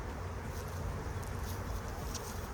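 Honey bees buzz continuously inside an opened spring beehive, a dense, close, steady hum with brief louder passes as individual bees fly near.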